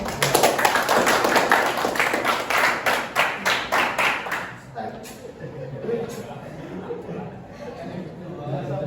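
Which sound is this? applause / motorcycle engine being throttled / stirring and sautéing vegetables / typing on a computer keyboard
applause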